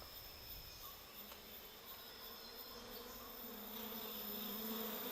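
Giant Asiatic honeybees, the largest honeybees, swarm at an open nest high in a tall tree, making a dense, steady buzzing drone that swells slightly toward the end, with no talking.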